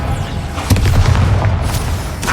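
A Confringo blast spell goes off in the Hogwarts Legacy video game, a loud booming explosion with sharp cracking bursts near the start and a rumbling low tail over steady game ambience.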